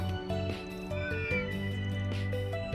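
A cat meows repeatedly in the video game Trails Through Daybreak, several drawn-out mews over a steady tonal background of game music.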